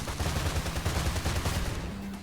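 Rapid gunfire from a ranged weapon in the game Freedom Wars, a dense burst of repeated shots close and loud throughout, no voices over it.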